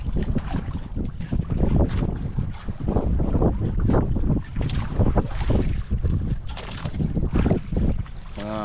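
Steady rush of wind and water with a droning motor from fishing boats, continuous and fairly loud, no voices.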